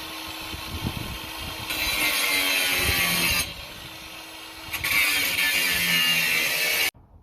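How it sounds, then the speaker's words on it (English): Tubing being cut for a throttle body relocation on a Barra engine in a BA–BF Falcon, a rough rasping cut in two main bursts with short pauses, close and fairly loud, ending abruptly. "we're just going to cut a little bit of tubing"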